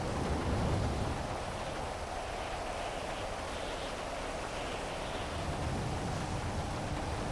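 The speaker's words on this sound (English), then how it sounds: "The rain is really loud." Heavy rain pours steadily in GTA FiveM, a dense, loud, continuous hiss across the whole stretch with a low rumbling undertone, like a downpour hammering the surroundings, and no talking over it.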